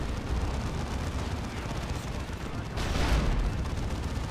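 Heavy weapons fire rages in a Dawn of War 2: Retribution 1v1 real-time strategy match: a steady, dense wash of gunfire and explosions that swells louder about two-thirds of the way through, with no voices.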